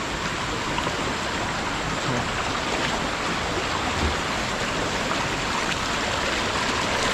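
Continuous rushing of water flowing from a broken water line in the countryside, a steady, full hiss that stays constant throughout with no voices.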